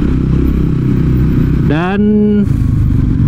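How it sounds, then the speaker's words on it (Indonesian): A single-cylinder 225 cc TVS Ronin 225 motorcycle engine climbs a mountain road, its steady low drone running continuously, with a rider's voice partly over it. "Mesin 225 cc, 1 silinder, aman banget buat nanjak-nanjak."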